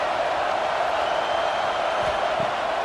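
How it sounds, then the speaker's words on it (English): A steady, dense college football stadium crowd roar, NDSU vs Texas A&M, fills a large space, a continuous wash of voices and cheering at even loudness throughout. "This crowd bringing the energy and noise early."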